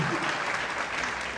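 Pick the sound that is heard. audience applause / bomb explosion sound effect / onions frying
audience applause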